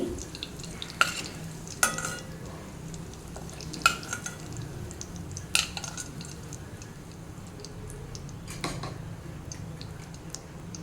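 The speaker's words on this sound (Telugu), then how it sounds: "అలాగే క్యాప్సికమ్ కూడా వేయించుకోవాలి" Diced capsicum fries in a pan for an aloo capsicum kadai curry, with a soft steady sizzle under sharp clinks and scrapes of a spoon stirring against the metal at irregular intervals, close by with no talk.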